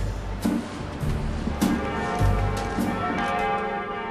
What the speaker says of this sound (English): Dame's new bells, rung for the first time on the weekend before Easter.